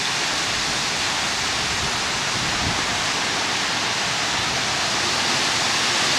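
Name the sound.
waterfalls by a patio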